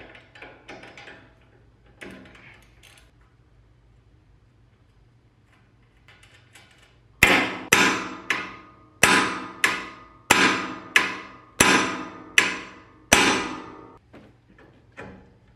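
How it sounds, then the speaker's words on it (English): Someone is working on the suspension knuckle of a 2016-2020 Toyota Tacoma. A few light knocks come first, then nine hard, ringing hammer strikes land on the metal at a steady pace, loud and close. "I'll show you on this side to hit this with a hammer and it will release"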